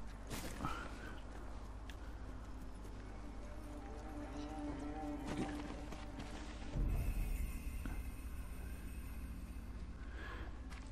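Horse hooves clip-clop in the video game Ghost of Tsushima, faint rhythmic steps under a dense game soundscape with mechanical creaks and a thump partway through.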